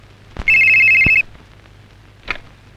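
A telephone rings once in a short electronic burst lasting under a second, loud and close. A couple of soft knocks come before it and another follows, with no speech.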